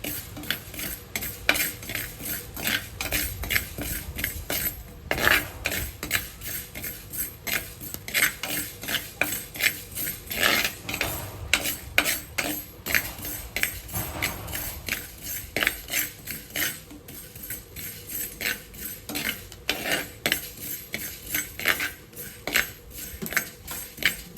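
Fenugreek seeds dry-roasting in a pan, heard as a dense, continuous rattle of small seeds being stirred and scraped with a metal spoon, close and busy with rhythmic clinks throughout.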